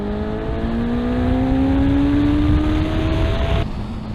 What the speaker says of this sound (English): That pulls hard at the top end.